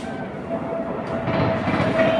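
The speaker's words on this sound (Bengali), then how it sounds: "ওই যে ট্রেন যাচ্ছে রাজধানী যাচ্ছে" A Rajdhani express train rolls past with a steady, moderately loud rumble and a faint whine, heard alone with no talking.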